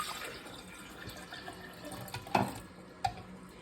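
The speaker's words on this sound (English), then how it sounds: "2 cups of water. I'm putting them in the blender." Water poured into a blender while making mole, a faint trickling splash with two brief sharper glugs near the end, quiet and close, no voices.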